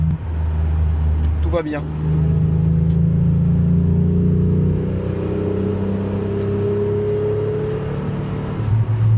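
Renault Clio V6 driving on the road, heard from inside as a steady mid-pitched engine drone with a brief rev change early on, while someone speaks French over it.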